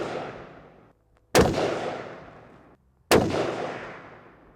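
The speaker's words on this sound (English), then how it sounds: "The first group of ammo I just shot out of that Frontier 55 grain stuff" Two loud rifle shots fired with Frontier 55 grain ammunition at an outdoor range, each a sharp close crack followed by a long rolling echo that fades before the next.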